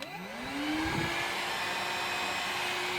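A Dibea C17 cordless stick vacuum cleaner starts up with a rising whine that settles into a steady, loud, continuous motor roar with rushing airflow, close by and without talk.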